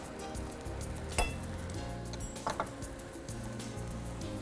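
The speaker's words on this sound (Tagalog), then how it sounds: "we need to saute our vegetables naman" Onion sautéing in butter or oil in a pan, a steady close sizzle running throughout with a few light clinks of utensil against cookware.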